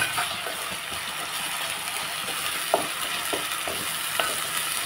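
A paste of onion, ginger, garlic, cumin and coriander fries in a pan for a curry, giving a steady, dense sizzle with occasional light utensil clicks and stirring scrapes throughout.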